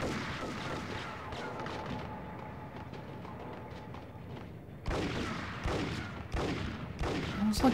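Gunfire in the Max Payne game: a loose series of shots and thuds under game ambience, with a louder, closer cluster of sharp bangs erupting toward the end.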